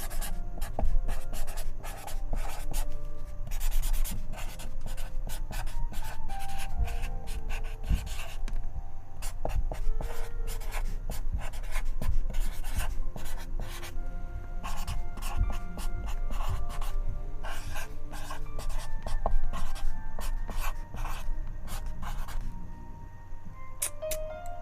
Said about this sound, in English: give a little bit of just a sign the painting with a Sharpie or a pencil